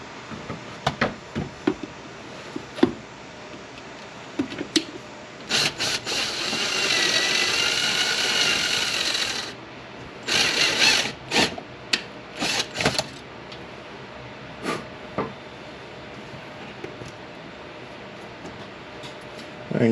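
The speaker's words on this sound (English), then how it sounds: "So let's go ahead and do that and start drilling." Power drill boring pilot holes into the front bumper of a 2021 Honda Accord while fitting an S-Factor front lip, heard as a sustained whir of a few seconds followed by shorter bursts and knocks, close and loud.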